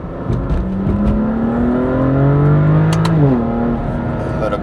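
A BMW M2 CS engine revs up through rising pitch, drops on a gear change, then climbs again, loud and close from inside the cabin.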